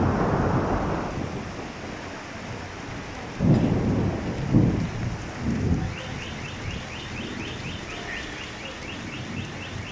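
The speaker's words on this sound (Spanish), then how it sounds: "los rayos son normales en Puno, así que no hay problema en los rayos." Thunder rumbles and rain pours steadily during a fierce hailstorm in Puno, with several loud, close thunder bursts rolling through over a constant wash of heavy rainfall; no voices.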